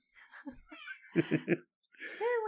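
Domestic cat meowing, a few short mews followed by a quick run of three chirps, ending in a longer rising meow, close and clear with brief pauses between calls.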